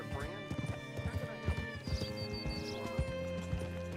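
In Red Dead Redemption 2, a horse's hooves clip-clop in an uneven rhythm, then it gives a short whinny, moderately close over a bed of game music and ambience.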